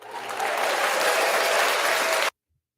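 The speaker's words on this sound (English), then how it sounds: "let me give him a round of applause" A round of applause for Fred McGriff on a live sports talk show, a dense burst of clapping that swells quickly, holds steady for about two seconds and then cuts off abruptly.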